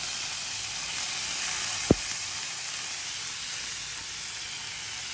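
Ginger garlic paste sizzling in hot oil, a steady, fairly faint hiss throughout with one brief low thump near the start, no voices.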